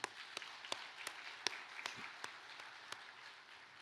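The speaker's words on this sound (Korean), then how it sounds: "우리 하나님 앞에 영광의 박수를 올려드리겠습니다" A congregation at an Easter union church service claps, faint and distant, with a few sharper individual claps standing out over a soft, scattered background of hands.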